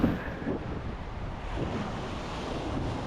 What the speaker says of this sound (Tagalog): Yung mga alon.